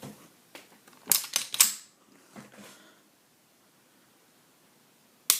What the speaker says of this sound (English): So now when I pull the trigger